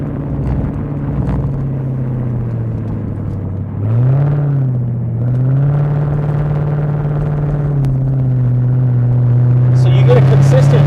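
Supercharged LT4 V8 in a Camaro ZL1 1LE on a canyon run, its loud exhaust droning at a steady low pitch, then rising and shifting as it revs through the turns, with a voice talking over it.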